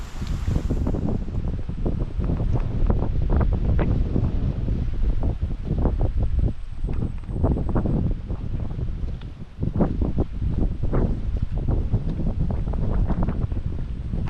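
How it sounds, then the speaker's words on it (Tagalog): Gusty wind around a DIY greenhouse buffets the microphone with a steady rumbling roar that rises and falls throughout. "Bago lang pa man din nakaka-recover, oh, may hangin na naman."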